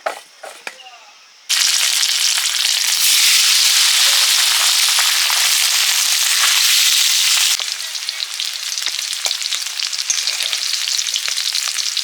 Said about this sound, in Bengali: রেখে আলুগুলো ভেজে নেব